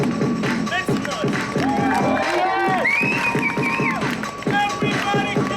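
Lively crowd cheering, whooping and shouting with scattered clapping, loud and continuous, with excited voices rising over each other close by.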